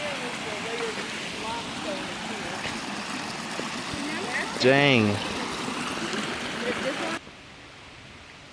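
A Connecticut stream runs like a small waterfall into a river, giving a steady close rush of splashing water, briefly interrupted by a short spoken exclamation.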